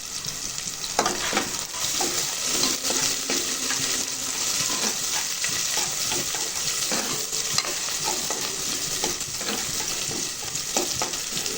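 Chopped onion and garlic sautéing in a pan: a loud, steady sizzle of frying throughout, with intermittent stirring scrapes and clinks close by.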